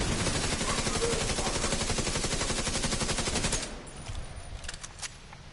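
Rapid automatic gunfire in The Division 2 rattles loudly and continuously for several seconds, then stops, leaving scattered fainter shots and clatter.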